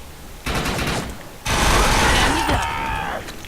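Rapid automatic weapon fire in the video game Defiance from a spec'd-out rifle with a 90-round magazine, with a short burst followed by a sustained, loud rattling volley and some mechanical clatter.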